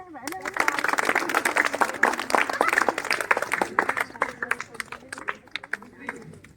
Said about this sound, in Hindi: शुरू करो तालियां।